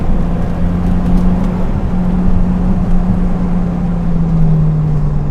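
A car on Nitto NT05 tires drives hard, its engine giving a loud, steady, droning roar with a constant low hum under it. No voices are heard.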